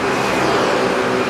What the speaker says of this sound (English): there's traffic on both sides of the wall